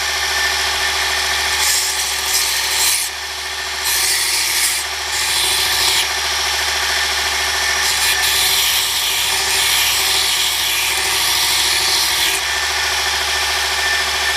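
A micro electric belt sander grinds coating off metal with a loud, continuous whirring rasp, its scraping surging and easing as the piece is pressed against the belt.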